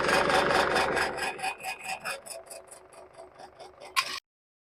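A blade rasps in quick, regular strokes along the edges of a handmade wooden fishing lure, close and fairly loud at first, then thinning out, ending with a brief scrape.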